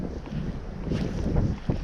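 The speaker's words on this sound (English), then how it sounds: "This wind is brutal, my friends." Strong wind buffets the microphone in a steady roar with rising gusts while trout fishing, joined by faint water noise.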